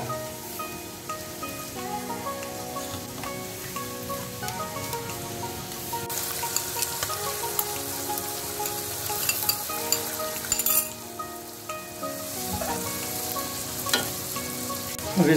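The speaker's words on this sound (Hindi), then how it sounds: "गोश्त को डाल के प्रॉपर तरीके से मिक्स करें।" Beef sizzling steadily in a karahi, with continuous close frying crackle and occasional scraping stirs of a spoon against the metal pan.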